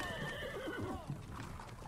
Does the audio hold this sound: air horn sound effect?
no